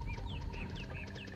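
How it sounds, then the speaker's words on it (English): Birds sing on the Summoner game soundtrack: repeated quiet chirps and whistled tweets over a soft ambient bed, with no talking. "you can actually hear birds singing"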